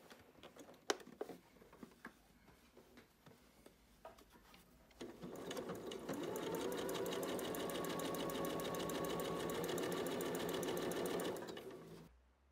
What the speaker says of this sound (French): La deuxième étape se fait à la machine à coudre, au zigzag triple point